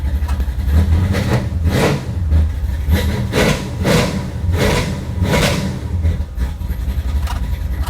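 A V8 engine swapped into a Chevy S10 pickup runs steadily and loudly up close, with a deep rumbling idle and a few surging rises in revs.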